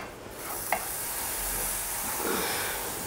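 Water chestnut flour dry-roasts in a pan, giving a soft, continuous hiss and rustle with a faint scrape of stirring partway through, heard close and quiet.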